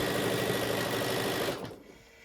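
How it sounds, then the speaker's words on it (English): A sewing machine stitches a Kimberbell pillow border, a steady close mechanical whir with rapid needle knocking that runs about a second and a half before winding down and stopping. "So I am sewing this border a little higher up"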